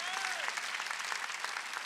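Church congregation at a Wednesday worship service breaks into brief, dense applause, many hands clapping at once, with voices and a spoken tone sliding over it.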